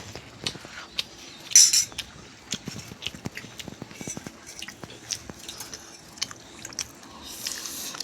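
Someone eating biryani at home, soft chewing and biting close up, with light clinks of a spoon on a plate and one sharper crunch, and no talking.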